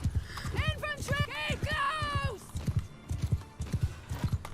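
Horses in the game Bannerlord, a medieval battle scene, gallop with steady rhythmic hoofbeats while one horse gives a loud, drawn-out whinny early on.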